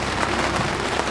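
Rain falls on a fishing boat off Mississippi, a dense, steady patter and hiss of drops striking the deck and the water close by.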